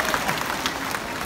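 Applause from a small live audience at a business talk, a steady broadband patter of clapping hands with no single claps standing out, lasting about a second at moderate level.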